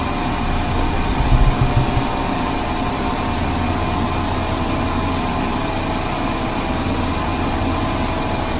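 A Beechcraft 1900D twin-engine aircraft drones steadily and loudly in Flight Simulator 2002, a dense, even engine roar with a faint tonal whine and a brief low rumble near the start.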